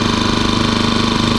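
A Champion 2000 watt inverter generator, model 73536i, fitted with a fuel filter, runs at a steady idle with its economy switch in use, giving a constant, even engine hum close by with no talking.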